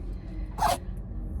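A single short sneeze from a person indoors, one sharp burst over a quiet, low background hum.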